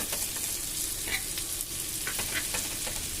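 Fish fries with curry leaves in a pan, giving a steady, fairly quiet sizzle with occasional crackles and pops throughout.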